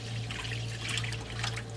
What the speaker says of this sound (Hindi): साथ ही इसके अंदर हम पानी ऐड करेंगे